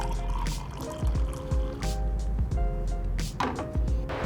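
Freshly brewed coffee pours from a Chemex glass carafe into a mug, a steady liquid stream with gurgles and drips running continuously and close up.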